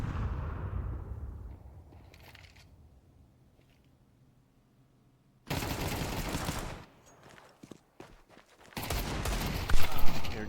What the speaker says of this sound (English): Even further beyond that, the Deagle spamming away.